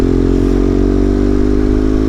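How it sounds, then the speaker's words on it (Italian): Motorcycles, likely BMW GS bikes, rumble past on a mountain road descending toward the rider, a loud steady engine drone with some clatter, no talk. "vedete ci sono altre moto che stanno scendendo"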